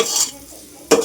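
Spices tempering in hot oil in a pan for patra, a brief hiss and sizzle with metallic clinks of utensils, fading before a second loud burst at the end.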